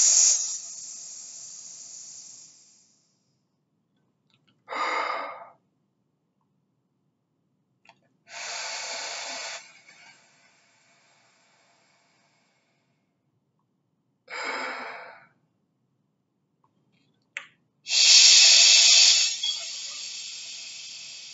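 Deep, airy inhalations for a vocal-technique breathing exercise come as five separate close hissing breaths, each a second or two long, with silent pauses between them.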